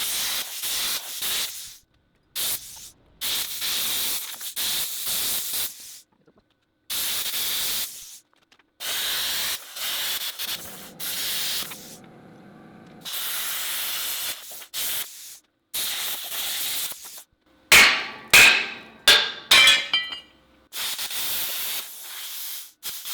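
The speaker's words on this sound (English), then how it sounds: "Starting to get the hang of this arc gouging stuff" Arc gouging on metal with a Bestarc welder: loud hissing, spraying bursts that come in repeated passes separated by short silences. Near the end there are several sharp crackling pops.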